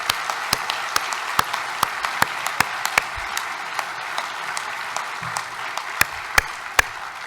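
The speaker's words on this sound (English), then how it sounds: "Let's give these great men a round of applause for their years of service." An audience at a water-industry awards ceremony claps in a room, with sharp individual claps punctuating a steady background of applause throughout.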